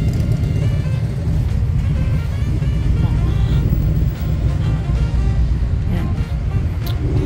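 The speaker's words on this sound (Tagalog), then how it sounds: "Ganda pa rin ang ingay ng mga sasakyan." Steady street traffic noise from passing cars and vehicles on a city road at night, a continuous low rumble close by with faint voices mixed in.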